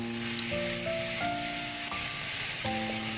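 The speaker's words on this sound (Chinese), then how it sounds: "把剩余的蔬菜倒入， 稍微翻炒一下" Vegetables stir-fry in a hot pan, sizzling loudly and steadily throughout, with stirring scrapes and tonal music over the top.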